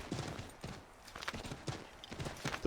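Horse hooves clip-clopping in the video game Assassin's Creed 3, a quick irregular series of sharp hoof hits at a trot, fairly faint and close, with no talk.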